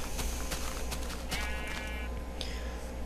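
A sheep bleats once in the Minecraft video game, a short wavering cry heard among faint clicks over a steady low hum.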